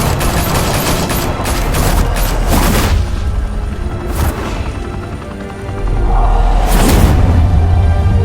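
Bursts of gunfire with heavy booms in the video game Batman: The Telltale Series, rapid volleys and explosions filling the scene loudly, with a roaring blast near the end.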